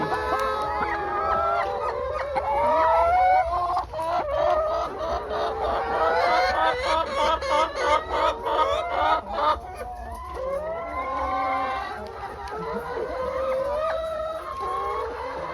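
Many chickens cluck and squawk together on an egg farm, a dense, continuous chorus with overlapping calls, some crowing-like and honking notes rising through it.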